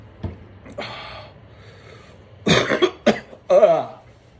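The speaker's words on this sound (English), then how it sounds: "Coughing up stomach acid didn't help." Several harsh, close coughs in quick bursts after a quiet start, with a throat-clearing rasp among them, no speech.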